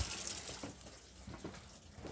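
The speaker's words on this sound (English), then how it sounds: "to allow the water to run back out the pipework" An opened tap on a 2018 Elddis Crusader Mistral caravan lets water drain from the pipework in a steady, close gushing flow with soft gurgles, and no one speaking.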